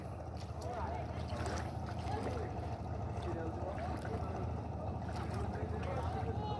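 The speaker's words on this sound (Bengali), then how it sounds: "একটা ট্রলার আসতেছে নদীর পাড়ে থেকে" A passenger trawler approaches across the Padma river on an afternoon, its steady low engine drone and water wash running continuously under wind and nearby talk.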